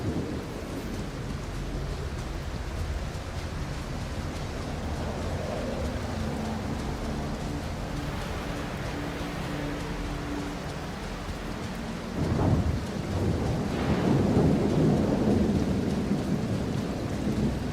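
Heavy rain with rolling thunder in the video game The Alters, a steady dense downpour hiss joined by a loud thunder crack near the twelve-second mark and a long rumbling swell after it.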